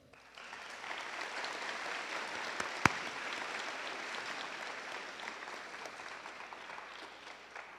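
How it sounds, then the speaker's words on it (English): A large audience claps steadily in a school ceremony hall for a high school band and a Junior ROTC color guard. The applause is fairly faint and even, with one sharp, louder knock near the middle. "a round of applause for the Science Hill Band and the Junior ROTC Color Guard"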